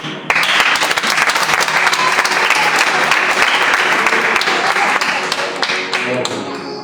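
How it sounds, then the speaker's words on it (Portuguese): A congregation at a church sermon breaks into loud, sustained applause, a dense wash of clapping that holds steady for several seconds before tapering slightly. "as palmas são para Jesus"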